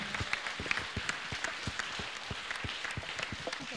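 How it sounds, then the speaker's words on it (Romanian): Concert audience applauding at an anniversary concert in Ocnița, dense steady clapping from a large crowd that holds at an even moderate level throughout, with some individual sharp claps standing out. "aplauze"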